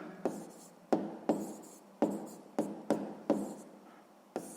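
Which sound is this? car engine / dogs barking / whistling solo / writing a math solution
writing a math solution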